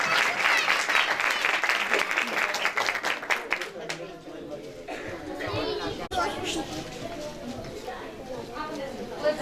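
A church congregation claps loudly during a Christmas program, with voices and cheers mixed into the first few seconds. The clapping then thins out into quieter murmuring and talk.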